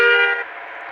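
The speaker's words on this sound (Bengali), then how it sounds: "বাহ বাসে কি 4টা হর্ন আছে?" A multi-tone bus horn from the video game Bus Simulator Indonesia blares in one loud, steady blast that fades to a lower sustained tone, with no one talking.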